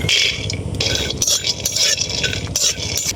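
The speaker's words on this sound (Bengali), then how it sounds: "শুকনো কড়াতে বাদামগুলো ভেজে নেব" Peanuts being dry-roasted in an empty kadai, with a metal spatula scraping and stirring steadily against the pan and a dry rattle of nuts, close and continuous with no talk.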